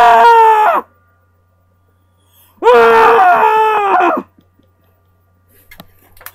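A person screams twice into a pillow in frustration over a baseball loss, two loud muffled wails. The first is short and the second is longer, with near silence between them and a few faint rustles after.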